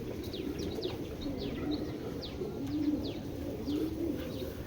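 Several Giribaj pigeons coo softly in a low, continuous murmur, with faint high bird chirps over it and no talking.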